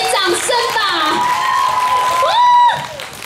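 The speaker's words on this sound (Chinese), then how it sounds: "给点掌声吧" An audience at a live celebrity fan event cheers, with shrill, high-pitched whoops and screams over clapping, rising to a brief loud peak near the end.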